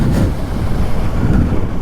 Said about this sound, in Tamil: டேமில் செம்மையாக தண்ணி போயிட்டுருக்கு.